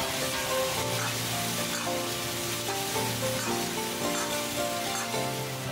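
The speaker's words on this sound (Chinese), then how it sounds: "烧热，拿一小坨猪油，煮蔬菜，用猪油更香，加姜蒜泥炒香" Ginger garlic paste fries in lard in a hot wok, giving a steady, even sizzle that runs the whole time under light background music.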